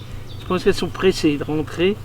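A steady low insect buzz, like bees humming, runs beneath a person speaking up close.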